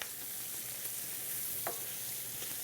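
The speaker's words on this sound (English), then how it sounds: "that bacon's looking really good. I'm gonna give it a stir." Bacon frying in a pan makes a dense, steady sizzle and crackle. One brief scrape of a utensil comes as it is stirred, and no voices are heard.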